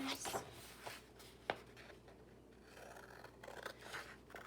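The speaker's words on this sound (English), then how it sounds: "And grab my scissors." Quiet snipping and rustling of paper being cut with scissors while trimming a main lesson book for binding, with a sharp click partway through and soft scraping sounds in a hushed room.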